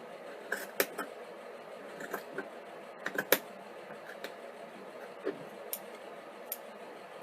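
Scissors snip through fabric cut from an old pair of pants, shaping a doll swimsuit piece: sparse, irregular light clicks and short snips, close and quiet, separated by soft pauses.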